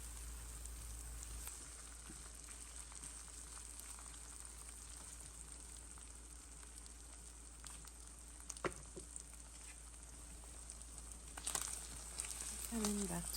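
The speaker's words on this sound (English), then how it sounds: "After adding the eggs, you will scramble it just like you are making scrambled eggs." Beaten eggs sizzle and scramble in a pan for shrimp fried rice, a faint steady frying hiss with occasional scrapes and clinks of the utensil against the pan.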